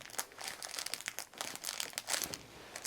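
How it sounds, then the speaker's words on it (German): Paper being torn away from a stitched quilt sandwich along the seams gives a close, steady run of crinkly ripping and rustling bursts, with no voices over it. "So, wir nehmen unser Sandwich und lassen die Nähte einfach aufplatzen."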